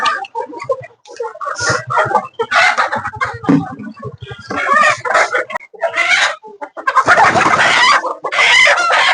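Sonali chickens kept through winter cluck in busy, overlapping bursts close by, while a rooster crows loudly several times among them, with short quiet gaps between calls.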